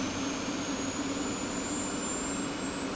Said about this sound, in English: I'm going to click left on it to go ahead and get the jet starter going